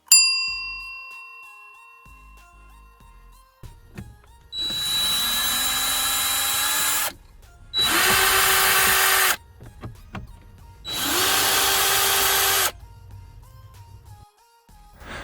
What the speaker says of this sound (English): we're going to start off by removing the 3 hex head screws that are underneath the dash pad on the passenger side